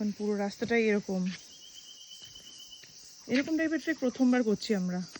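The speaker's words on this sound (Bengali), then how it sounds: "আর পাশ থেকে শুনলে বিভিন্ন রকমের ঝিঝি পোকা, তাদের ডাক।" Crickets chirp steadily along a jungle canyon trek in the hills, a thin high buzzing that carries on under a voice and stands alone in the pause between his words.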